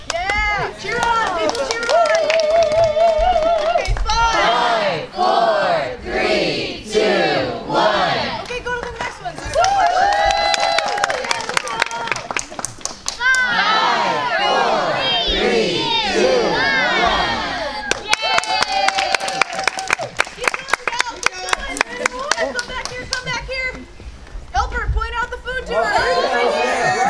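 Crowd at an outdoor national park ranger talk cheering and clapping in loud bursts, with voices shouting and chattering and a leader counting aloud between the swells of noise.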